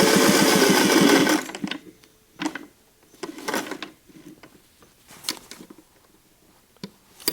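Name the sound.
sewing machine stitching a patch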